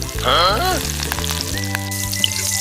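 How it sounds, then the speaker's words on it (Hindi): Small tuna fish pieces sizzle and fry in a miniature pan, a steady close crackle that runs under some brief voice-like tones and light clinks. "टुकड़े अच्छे से फ्राई हो चुके हैं।"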